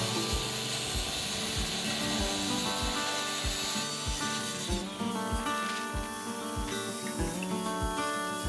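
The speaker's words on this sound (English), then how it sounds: "I cut the top down to size and then started sanding." A wooden table top is sanded by hand in steady back-and-forth strokes, a rhythmic raspy scrubbing that repeats roughly twice a second, close and continuous with no talking.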